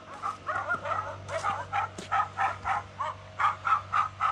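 A series of rapid, evenly spaced electronic dog barks from a pond predator deterrent device, repeating steadily over a low mechanical hum, sounding slightly artificial and moderately loud.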